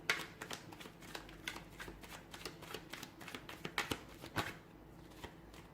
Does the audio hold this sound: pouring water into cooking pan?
no